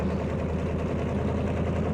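An old GMC truck with straight-piped exhaust idles with a deep, rumbling, steady burble that holds close and even throughout.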